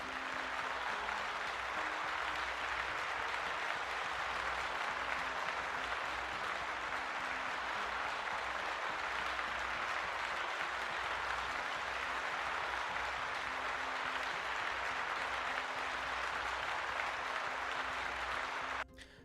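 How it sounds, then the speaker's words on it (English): Dense, steady applause from an audience fills the whole stretch at an even level without letting up, then cuts off abruptly just before the end. "Let's give Squid a big old round of applause"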